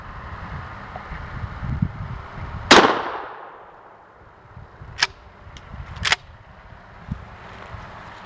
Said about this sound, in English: shooting with my Remington 870, 20-inch barrel Police Magnum rifle sights